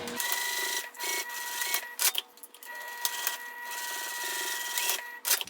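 Sewing machine stitching a quarter-inch seam on a small fabric travel pouch, a steady close mechanical whir with brief pauses and clicks, some tonal whine running through it.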